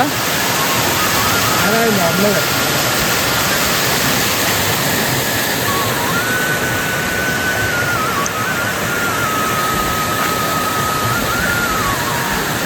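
Cold water rushes and pours continuously in a loud, steady roar during monsoon rain in the Konkan countryside, filling the whole scene, while a person speaks over it.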